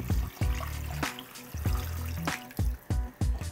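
Water pouring into a pot for pho broth, a steady splashing stream broken by brief pauses and sharp clinks, close and alone.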